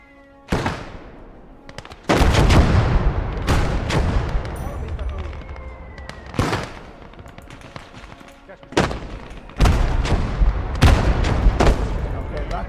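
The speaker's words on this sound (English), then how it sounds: "Guns in operation again." Gunfire and artillery in the video game Blood Red Snow: repeated sharp shots and heavy booming blasts come in clusters, some close and loud and others more distant, over a constant rumble of battle.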